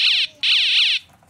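An electronic yelp siren on a police motorcycle sounds loud and close. It gives two bursts of rapid, rising and falling warbles, then cuts off.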